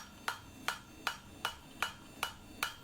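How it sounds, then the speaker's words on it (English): Seven evenly spaced hammer blows ring out as a ball pein hammer is forged into a small axe, each a sharp metallic strike about every 0.4 seconds, fairly faint and with no talk. "you can see me angling the hammer"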